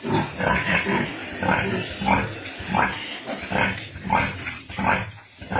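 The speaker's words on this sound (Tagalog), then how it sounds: "Takaw nila mga Lods. Ayan oh. Nalakas silang dumede." A litter of ten three-day-old piglets suckles from their mother sow, with continuous close grunting and squealing layered together throughout.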